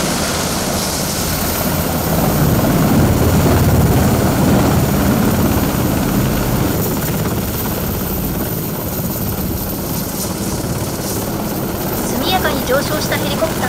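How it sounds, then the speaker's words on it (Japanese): A loud, constant helicopter rotor roar, close and steady throughout, with heavy engine whine and wind noise as the aircraft lifts off a ship's flight deck and climbs. "上昇したヘリコプターは常に船を視界内に保ちつつ、徐々に高度を取りながらファイナルポジションに移動します。"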